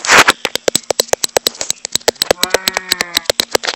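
A cow mooing in the Minecraft video game, a loud, close, drawn-out bovine moo that rises and wavers, backed by a fast stream of sharp clicking pops throughout, with no talking.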